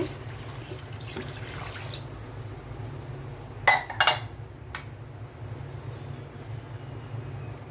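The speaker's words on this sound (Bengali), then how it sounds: "এখন পানি দিয়ে দিচ্ছি" Water poured into a pan of frying rohu fish head with green chilies: a steady low wash of liquid with a couple of sharp clanks of a pot or utensil midway, close by, no speech.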